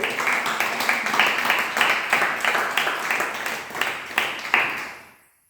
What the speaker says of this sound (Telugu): గట్టిగా చప్పట్లు కొట్టి ప్రభు నామాన్ని మనం ఘనపరుస్తున్నాం